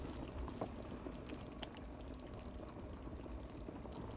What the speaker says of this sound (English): Cook 5 minutes, then serve.